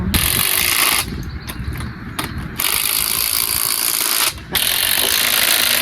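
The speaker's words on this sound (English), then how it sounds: "Go ahead and run these two down. There you go. Get in there. Torque wrench." A ratcheting torque wrench tightens engine bolts during an engine assembly, producing loud, continuous close-up mechanical clicking and whirring with brief pauses between runs.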